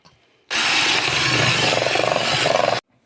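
A loud electric blender whirs steadily for about two seconds mixing cream for a cake, starting and stopping abruptly, with a faint rhythmic chop near the end.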